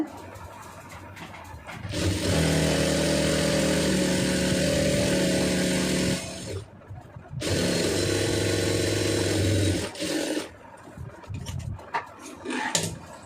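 A sewing machine stitches a folded fabric edge on a neckline piece, running in two long steady motor bursts with a short pause between and a brief stop near the end, loud and close, with no talk.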